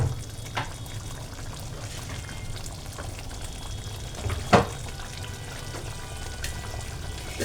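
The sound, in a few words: ghee being added to palak paneer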